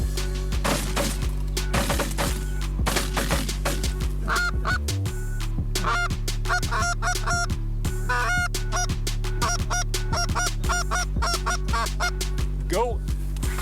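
Canada geese honking as they fly in over a waterfowl hunting blind in Saskatchewan: a loud, continuous chorus of overlapping honks from many birds, near and constant throughout, with no clear talk.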